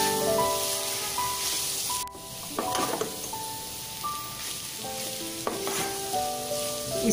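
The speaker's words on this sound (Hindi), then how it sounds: "स्टफिंग को अच्छे से मिक्स करेंगे" Vegetable stuffing for spring rolls stirred in a frying pan over a low flame, a steady soft sizzle broken by scraping spatula strokes, close up, with tonal hum in the background.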